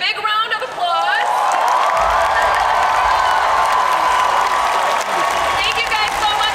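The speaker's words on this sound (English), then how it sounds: "Everybody, big round of applause" A San Diego Comic-Con panel audience bursts into loud, sustained applause and cheering that fills the hall, with a host's amplified voice speaking over the crowd at the start and again near the end.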